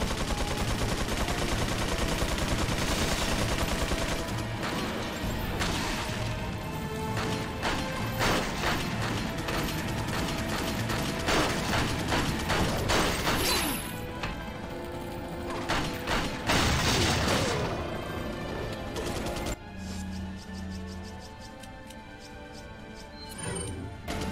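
A minigun in Resident Evil 4 rattles with dense, continuous automatic fire mixed with mechanical clatter and impacts, loud and sustained for most of the stretch before easing off near the end.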